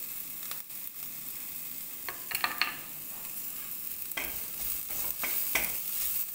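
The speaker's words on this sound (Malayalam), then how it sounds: "നന്നായിട്ട് മിക്സ് ചെയ്യാം." Chicken noodles are stirred in a pan over a quiet sizzle, with a few scraping clicks from the utensil at irregular moments.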